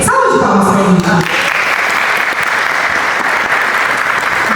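Loud, dense applause from the audience at a school cultural showcase for Henrique fills the room after a short spoken introduction, then holds steady to the end.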